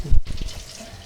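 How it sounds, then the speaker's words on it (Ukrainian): Water runs from a tap over catfish being rinsed, with a short splash, a brief close-up burst of flowing water. "Промиваємо проточною водою."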